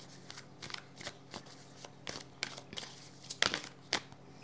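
Tarot cards are shuffled by hand in close, quiet, irregular bursts of riffling and flicking, one sharper snap near the end as a card pops out of the deck.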